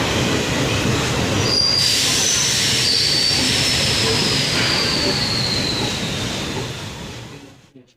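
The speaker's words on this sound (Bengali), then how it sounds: "প্ল্যাটফর্ম নাম্বার টুতে ঢুকছে আমাদের এই প্যাসেঞ্জার ডেমো ট্রেন" A DEMU passenger train pulls into platform two at New Mal Junction, a loud steady rumble of wheels and carriages with a high wheel squeal running through it, fading out at the end.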